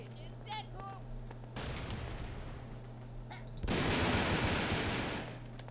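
Sniper rifle shots in Brickforce come as loud, broad bursts with reverberant tails, two main blasts a couple of seconds apart, while a faint voice is heard in the quieter stretches.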